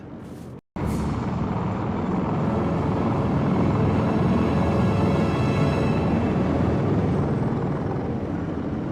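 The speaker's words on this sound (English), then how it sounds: "Hey, do you hear that? Another helicopter." A loud, steady helicopter rotor drone fills the scene after a brief cut, continuous and close throughout, from the video game Lost Horizon 2.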